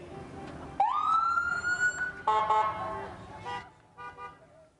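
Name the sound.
ambulance siren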